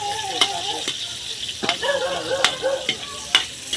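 Onions frying in a pan for a Bicol-style dish, a steady sizzle broken by several sharp clinks of a utensil stirring against the pan.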